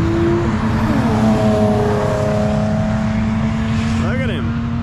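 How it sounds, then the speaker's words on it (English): A car on a track roars with a droning engine tone, and rising and falling pitch sweeps come near the end as it slides around. A voice talks over the loud, continuous engine noise. "Skidding around out there."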